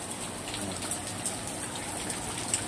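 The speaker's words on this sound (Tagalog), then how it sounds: "Grabe ng ulan na to." Heavy rain pours down steadily, a dense close hiss of drops pattering on surfaces with no pauses.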